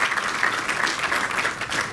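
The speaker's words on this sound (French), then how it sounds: "On peut l'applaudir, s'il vous plaît." A gala audience at a philanthropy awards evening applauds steadily, a dense even wash of many hands clapping throughout without pause.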